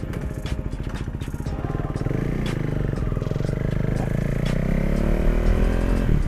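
A KTM 390 Duke fitted with an Akrapovic titanium slip-on exhaust pulls away on a ride, its single-cylinder engine thumping loudly and close before it picks up revs and holds a steady, growling drone.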